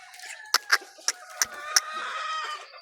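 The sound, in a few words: chicken hen clucking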